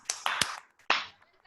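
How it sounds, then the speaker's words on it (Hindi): At a network-marketing core training session, an audience gives a short burst of hand claps to welcome a leader: a few sharp, close claps bunched together, then one more clap after a brief gap, with no voices. "एक जोरदार तालियों के साथ वेलकम कीजिए"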